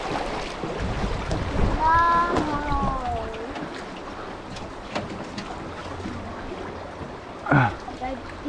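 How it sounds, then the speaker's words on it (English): A mini jet boat sits stuck in river rapids, with rushing water and wind buffeting the microphone close by throughout, and people shouting and talking over the noise. "Oh, we're stuck. We're stuck in the rapids."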